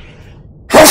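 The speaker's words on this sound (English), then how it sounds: "Captain, I heard somebody sneeze." A single sharp, loud sneeze bursts out near the end after a quiet stretch, close to the microphone.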